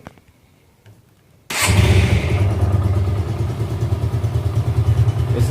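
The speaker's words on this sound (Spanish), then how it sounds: "Es el sonido de la moto. Así se escucha estando sin acelerar." After a near-silent moment, a Suzuki Gixxer motorcycle engine starts and settles into a steady, close, throbbing idle with no revving.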